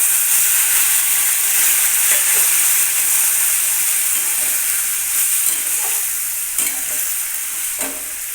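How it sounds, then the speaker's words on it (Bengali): Hilsa fish head frying with potato and pumpkin in a pan hisses and sizzles loudly and steadily after water is poured in, with a few faint stirring clinks toward the end. "কয়েক সেকেন্ড মাছের মুড়োটাকে আলু কুমড়োর সাথে একটু ভেজে নেওয়ার পরে এইবার আমি দিয়ে দিলাম পরিমাণ মতন জল"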